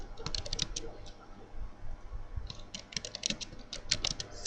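A command is typed on a computer keyboard while configuring a Cisco router, rapid close key clicks in two bursts separated by a short pause.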